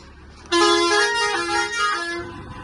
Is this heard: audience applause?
no